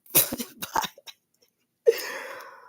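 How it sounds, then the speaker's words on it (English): A few rough, bursting coughs close up, followed after a brief silence by a longer raspy, throaty cough. "I got this little cough now"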